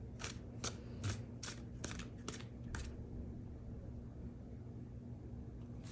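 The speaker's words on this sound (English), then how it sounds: "They want me to shuffle a little bit more." A deck of tarot cards is shuffled by hand in a series of quick, crisp riffling bursts, about eight short snaps over the first few seconds, close and fairly quiet, followed by a soft hum.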